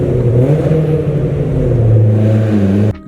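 A BMW E36 fitted with a catback exhaust, back box and shotgun tips revs up close and loud, its droning engine note rising and holding for a few seconds before cutting off abruptly.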